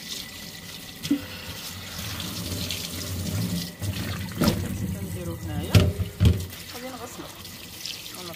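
Water is poured and splashed into a jar of olives being cured, a continuous running trickle broken by a few knocks and splashes.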